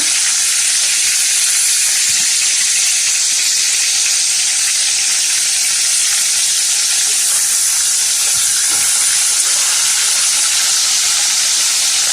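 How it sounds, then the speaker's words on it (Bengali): Chicken fries in a pan with a loud, constant hiss and sizzle that holds steady from start to finish, with only faint knocks underneath and no talking. "কষাকষি চিকেনটা ভাজা হয়ে গেছে।"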